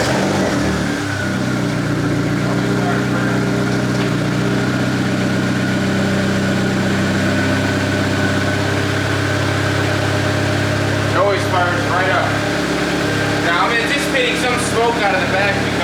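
A turbocharged Honda Accord engine idles steadily on its first start after a turbo build, a loud, continuous low rumble with bursts of higher mechanical clatter near the end.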